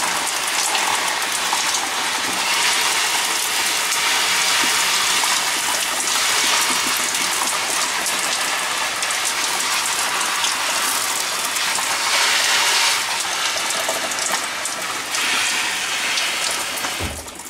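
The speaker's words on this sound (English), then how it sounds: "let's turn the shower off and see what the result is" Water from a shower spraying steadily onto a Polish FOO-1 CBRN protective suit, a loud continuous hiss and patter of droplets on rubberized fabric, close and unbroken with no talking.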